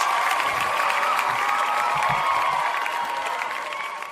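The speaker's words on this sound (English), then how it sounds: "Clap for me, fans" Fans clap and cheer together in a steady, dense wash of applause that stays loud throughout and thins slightly toward the end, with no clear voices standing out.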